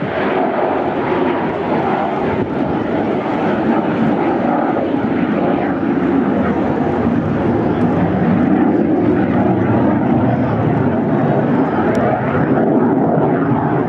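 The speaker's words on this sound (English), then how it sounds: "He'll be progressively opening the throttle to use the power of the engines to keep it flying, and then full reheat at the end" Jet aircraft engines roar continuously at an air show display at Clacton-on-Sea, Essex, a loud broad sustained rumble that stays powerful throughout with no pauses, heard from the crowd.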